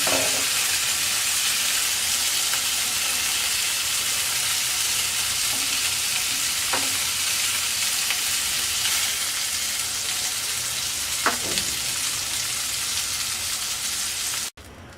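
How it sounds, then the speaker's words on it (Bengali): Green-marinated hariyali chicken kebabs fry in a pan, a continuous even sizzle up close with occasional faint clicks of a utensil against the pan, nobody talking. "বাকিগুলো ভেজে নিচ্ছি।"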